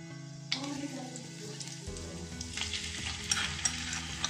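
Ginger garlic paste sizzles in about two tablespoons of hot oil in a pan. A close, continuous frying crackle carries the scrape of stirring, with no voices.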